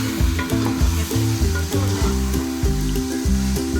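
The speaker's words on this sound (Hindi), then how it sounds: "हमारा मसाला जो है अच्छे से भून गया, अच्छे से भून चुका है।" Masala sizzles and fries in a pot for chicken yakhni pulao while a spoon stirs it in steady repeated strokes, giving a loud, close, crackling sizzle with rhythmic scraping.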